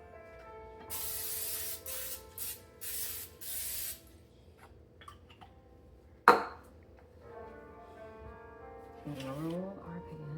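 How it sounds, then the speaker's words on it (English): Cooking spray hisses onto a floured baking pan in several short bursts, close and crisp, followed by a metallic clank of the pan and quiet talk. "gonna spray our pan so it doesn't stick."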